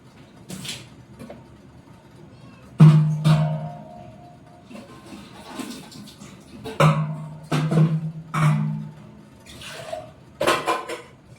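Items are washed by hand under running water at a sink, with irregular clatters and knocks of hard objects and a soft wash of water between them, close by and without speech.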